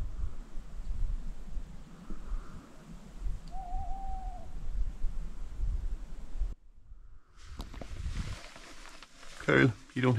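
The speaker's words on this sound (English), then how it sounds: "the owls calling" Owls hoot at night near the Old Man of Storr car park in Scotland. A soft, distant hoot or two rises over low wind and background hiss, followed by rustling and handling noise.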